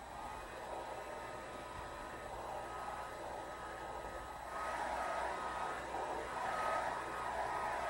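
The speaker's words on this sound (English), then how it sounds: "using a hair dryer for 2 or 3 minutes" A hair dryer blows with a steady airy whoosh, growing a little louder partway through, with no speech, drying a bathtub edge before re-caulking.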